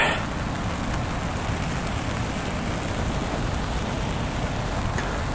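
Steady rain falls outdoors, a dense, even hiss of drops with no pauses or other sounds over the whole stretch.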